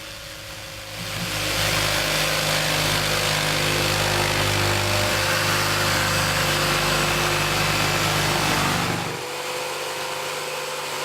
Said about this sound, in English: Grab a jigsaw.